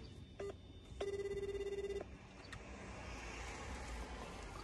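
A telephone ringback tone purrs steadily for about a second through a car interior during a mistaken call, with a short earlier beep and a low hum of road and cabin noise throughout.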